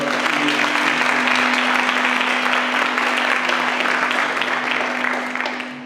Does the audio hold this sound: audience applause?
yes